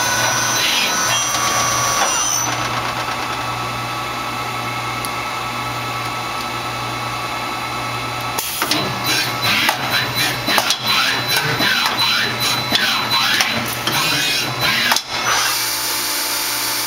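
A Tsugami BS20BII CNC Swiss lathe running at speed, a steady loud machine whine and hum that gives way to busier clattering, rhythmic mechanical bursts in the second half.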